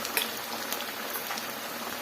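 Chicken lollipops fry in a pan with a steady, bright hiss and crackle of bubbling oil, evenly sustained with small pops throughout and no talking.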